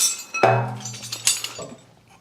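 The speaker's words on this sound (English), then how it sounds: "So I'll have to try cracking these loose with a breaker." Metallic clinks and clanks ring out as a breaker bar is fitted and worked against bolts on a Land Rover Defender 110 power steering box, a few sharp hits with short ringing decay, close and without speech.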